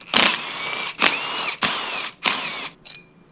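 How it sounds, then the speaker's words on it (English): Four bolts holding a go-kart rim's two halves together are loosened with a 5mm Allen key, heard as four short, loud whirring bursts with brief gaps between them and no talking. "take your 5mm Allen and go ahead and loosen the 4 bolts holding the rim half together"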